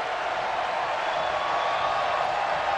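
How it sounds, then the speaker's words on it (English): Crowd noise in a college basketball arena with Arkansas playing at home, a steady, even wash of distant roar swelling slightly across the moment. "Crowd coming to life as Arkansas trails by 6."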